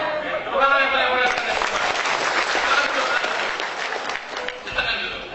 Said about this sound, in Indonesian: Tepuk tangan yang paling mulia.